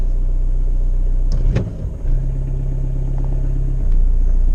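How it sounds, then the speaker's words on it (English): A VW Polo 6N with a 1.9 diesel engine idles, then takes one short, sharp throttle blip that flares up loudly before it settles back to a steady idle, heard up close. "Now all I'm going to do is give it a short, sharp blip on the throttle."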